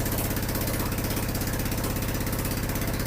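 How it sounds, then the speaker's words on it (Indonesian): Engine running steadily and loudly at close range, a continuous throbbing rumble with a regular pulse and no voices over it. "aku dengar tuh suara mesinnya meraung-raung deras"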